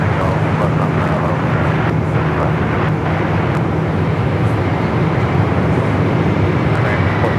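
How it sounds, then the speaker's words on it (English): An Arizona-based airliner touches down on a runway at Los Angeles International Airport, a broad, steady roar of jet engines held at mid distance with a faint voice over it. "we just had that Arizona Queen just touching down here."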